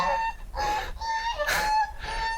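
Geese at a small water park in Zhaoqing, China, give a run of loud, nasal honks in quick succession, several calls overlapping at close range with no talk.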